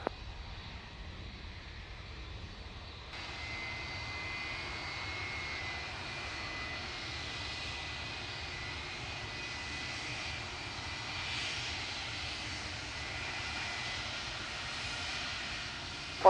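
Aircraft engines roar steadily on the runway at Manchester Airport as an airliner prepares to take off, heard as a continuous, fairly distant whine and rumble that swells slightly after the first few seconds.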